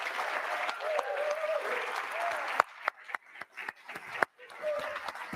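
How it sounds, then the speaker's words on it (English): Audience applause at the close of a Seattle City Council District 3 candidate debate: a steady wash of clapping for about two and a half seconds, then scattered individual claps fading out, with a brief swell near the end. "You can applaud."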